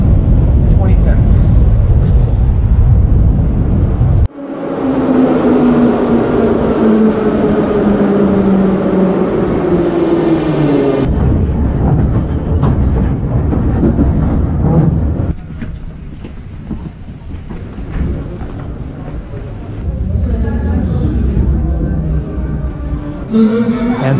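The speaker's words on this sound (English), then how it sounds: "And so this is the Didobe metro station, which is near the Didobe bus station" Metro train at Didube station in Tbilisi, Georgia, with a loud rumble and rising-falling mechanical whine as it moves through, followed by clattering station noise, with speech heard at times.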